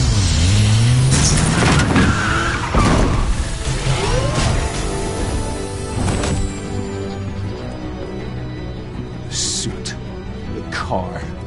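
A car engine in the Batman Telltale video game revs and roars up close, with swelling whooshes and mechanical clunks, mixed with game effects and a voice speaking over it.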